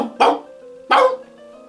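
A man imitates a dog with two short, loud barking yelps spaced about a second apart, clear and close to the microphone.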